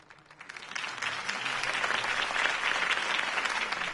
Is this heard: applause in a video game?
yes